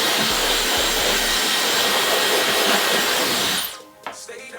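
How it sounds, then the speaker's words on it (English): Steady, loud broadband rush of a blow dryer running on its cool air setting, held for close to four seconds before it cuts off abruptly, followed by faint handling noises. "put my blow dryer on cool air and freeze them in"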